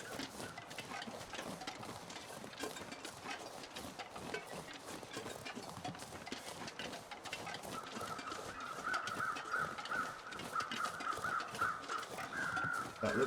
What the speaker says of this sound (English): I'm just going to follow the sounds of the crows.